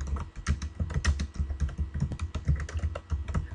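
Rapid typing on a computer keyboard while entering construction-site cost estimate data, a dense close run of clicking keystrokes in an uneven rhythm with no speech.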